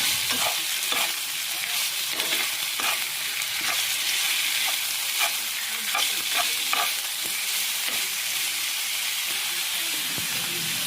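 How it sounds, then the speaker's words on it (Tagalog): Thinly sliced meat for pinapaitan sizzles steadily in a hot pan, with scraping stirs breaking through the continuous frying hiss, close and loud with no voices. "Tapos, ikiwar-kiwar na nga natin ito para magisa ng maigi."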